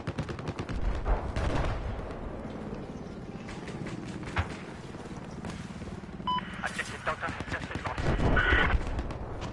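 Video game gunfire in Battlefield 4 crackles in rapid bursts and scattered single shots throughout, some close and some distant, while people talk over it.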